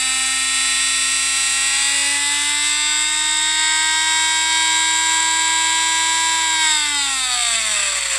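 A homemade bench grinder built around a treadmill motor runs steadily with a loud, high-pitched whine that holds its tone, then slides downward near the end as the motor slows, with a brief word spoken over it.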